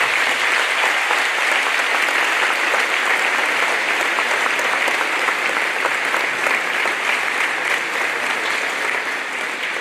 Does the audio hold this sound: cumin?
no